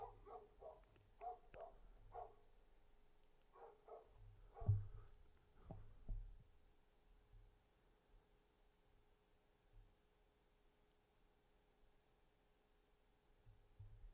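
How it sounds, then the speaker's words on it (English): The neighbor's dogs bark in a scattered run of yips and woofs at a distance, loudest around the middle, then trailing off into quiet room noise. "Almost had to yell at the neighbor's dogs."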